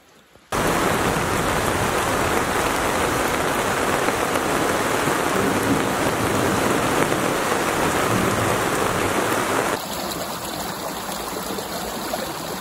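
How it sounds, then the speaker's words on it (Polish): Steady heavy rain pours down outdoors at a rural homestead, a loud continuous hiss with no voices, easing slightly toward the end. "No natomiast pada."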